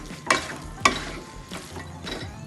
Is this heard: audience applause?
no